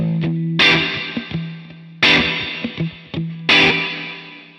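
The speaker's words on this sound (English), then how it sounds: "As I turn up the volume, you'll notice that the reverb becomes more intense, more distorted, and a little bit nastier." Electric guitar through a Supro Keeley Custom 12 amp with cranked, distorted reverb: three loud strummed chords ring out in turn, each trailed by gritty, clangy reverb wash and a few short picked notes in between.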